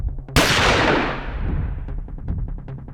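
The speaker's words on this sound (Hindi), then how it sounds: "1 सेकंड से भी कम वक्त में पहली गोली चलती है।" A single sharp gunshot cracks loudly and alone at the start of a street shooting, followed by a long echoing decay and a few fainter rattling impacts.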